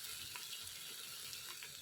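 Bitter gourd gently frying in a pan over low heat, with a faint, even sizzle and crackle heard close and continuous with no talk.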